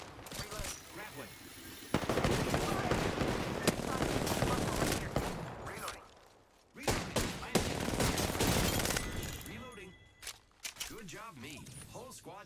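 Automatic gunfire in the Apex Legends battle royale game crackles in long, loud bursts separated by brief pauses, with in-game voice lines and players talking over the shooting.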